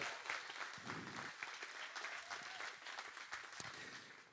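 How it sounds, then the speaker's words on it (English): Church congregation applauding together, a steady wash of clapping that holds at an even level from start to finish with no voices standing out. "Can we give him a round of applause?"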